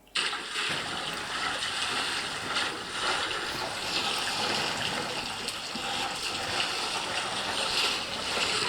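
Elephants at a water hole at Kings Camp splash and churn the water in a dense, continuous wash of sloshing and spattering that stays loud and close throughout.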